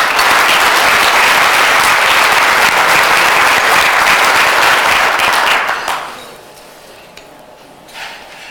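Loud, sustained audience applause greets speaker Roy Reiman, a dense clatter of clapping hands that fades out quickly, leaving near silence with a faint stray sound.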